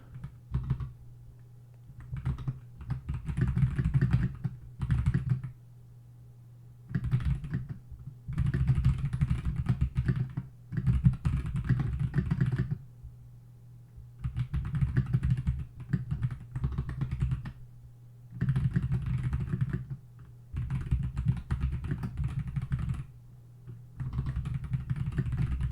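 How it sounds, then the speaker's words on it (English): Keys clatter steadily on a computer keyboard in bursts of rapid typing separated by short pauses, close and fairly loud, with a low steady hum beneath and no talking. "I hope you can hear my keyboard so it's nice ASMR while I type"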